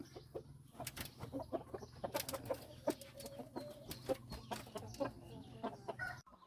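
Fighting cock roosters on a farm give off repeated clucks and short calls at a moderate distance, with a low steady hum beneath and no talking.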